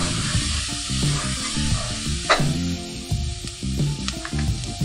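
Onions and carrot sizzle steadily in a pan while being stirred, a constant hissing fry broken by scraping and clinking of the spoon against the pot.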